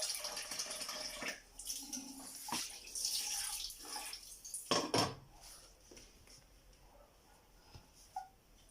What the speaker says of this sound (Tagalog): Lagyan ko ng konti tubig.